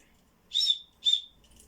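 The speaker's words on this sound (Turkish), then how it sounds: "Burada çok amaçlı düdük." Two short, high whistle blasts, each about a quarter second long, separated by a brief pause, sounding clear and close against a quiet background.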